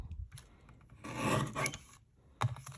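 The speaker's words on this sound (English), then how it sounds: "it's a great little trimmer" Paper trimmer blade slicing through card stock, a dry rasping scrape in short bursts, with a longer sustained cut in the middle and a sharp click near the end.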